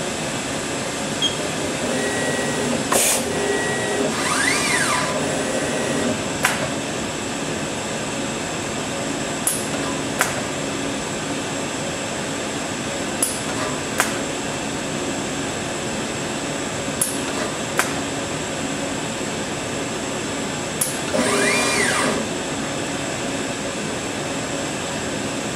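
An automated soldering machine runs a cycle in which its iron tip dips into a blow-clean station. A steady mechanical hum carries sparse sharp clicks and two short hissing air blasts, with no voices.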